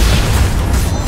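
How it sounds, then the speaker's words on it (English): A deep, heavy boom of a turret being destroyed in the video game League of Legends, loud and rumbling, filling the whole brief moment without a clear break. "Red team's turret has been destroyed."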